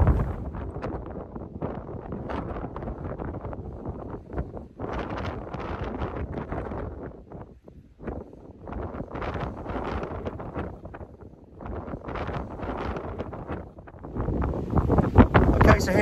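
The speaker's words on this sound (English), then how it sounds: "The gusts are quite strong up here, I'd say 40 to 50 mile an hour, so yeah, very strong." Strong gusty wind on a mountain summit at Moel Lefn, roaring and buffeting against the microphone in loud surges with a brief lull midway, rising again toward the end.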